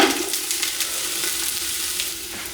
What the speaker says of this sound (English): We're going to cook down our onions first.